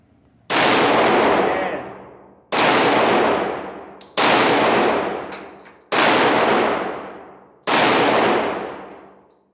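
A Glock pistol fires five loud single shots, spaced roughly two seconds apart, each a sharp blast followed by a ringing decay, heard close with no talking.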